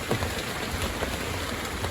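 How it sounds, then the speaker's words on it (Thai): Sudden heavy rain pours down at a fishing pier in Hua Hin, Prachuap Khiri Khan, a dense, steady hiss of drops hammering surfaces close by with no voices. "ฝน ลงมากระทันหันเลย"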